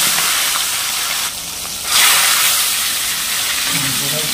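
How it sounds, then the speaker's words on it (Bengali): Pieces of folui fish fry in hot oil in a pan with a loud, continuous broadband sizzle that swells after a brief dip, and a voice is heard faintly near the end. "তেল গরম হয়ে গেছে, এবার মাছ ছেড়ে দেবো"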